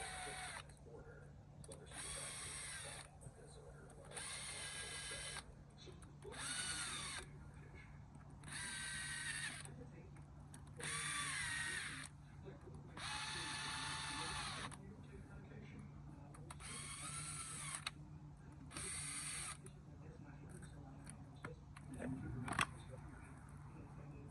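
A small electric power driver spins down bolts on the valve cover of a VW Jetta 2.5 SE, firing in about ten short whirring bursts with pauses between, close and clear.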